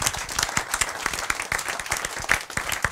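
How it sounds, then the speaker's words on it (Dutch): A room full of people claps loudly for the light and sound crew at a Saturday event, a dense, steady burst of many hands lasting several seconds. "daar zou ik heel graag een groot applaus voor willen."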